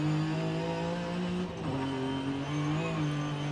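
Front-wheel-drive 1990s Japanese sports car in Forza Horizon 5, its engine droning steadily at high revs with pitch dips and climbs through gear changes and lifts, loud and continuous with no voices over it.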